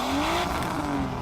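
Engine exhaust of a race car in Need for Speed: The Run, a loud, close revving drone with rising and falling pitch sweeps and a hint of tire noise.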